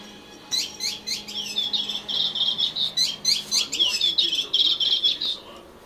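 A bird toy chirps in quick, bright, high repeated bursts that run almost without a break, close and fairly loud.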